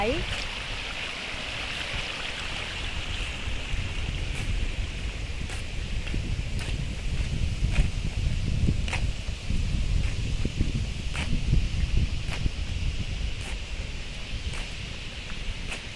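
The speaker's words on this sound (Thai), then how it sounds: "อันนี้ก็น้ำไหลออกมาจากนานะคะ" Rainwater drains out of flooded rice fields in a steady broadband rush, carried down from nearby hills, with wind and rustling mixed in and no distinct speech.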